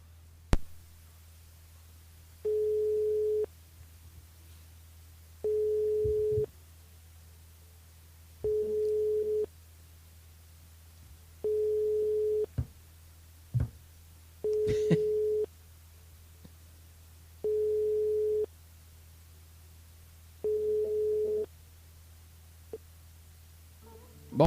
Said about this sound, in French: On appelle Ulrich du côté de Saint-Paul